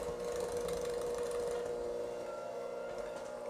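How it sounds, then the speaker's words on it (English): An electric stand mixer runs on its lowest speed while flour is worked into cookie dough, giving a steady, even motor hum that holds unchanged from start to finish. "we're gonna turn this on low and go slow"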